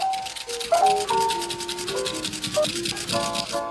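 A small folded piece of 400-grit sandpaper rubs back and forth over guitar frets in quick, close, scratchy strokes with a steady rhythm, no talking.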